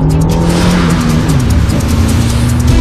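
A car engine roars loudly and continuously as the car accelerates while racing on a road with a 50 speed limit, the pitch climbing and shifting near and close with no speech.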